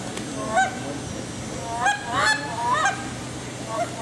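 A contestant in the hunter division of a goose calling contest imitates goose honks with a call, giving a run of sharp, clear honks and clucks at close range, some spaced apart and some in quick bursts.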